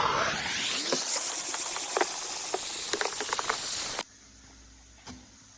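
A Kärcher steam cleaner jets steam in a loud, continuous hiss with small crackles and spits for about four seconds, then cuts off abruptly, leaving a faint room hum and one brief click.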